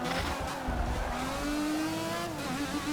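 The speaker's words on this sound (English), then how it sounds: "And he's banging gears, getting through here." Race car engine from a racing video game, an Aston Martin battling a BMW, revs hard and steadily with a rising whine, broken by quick gear changes, loud and close throughout.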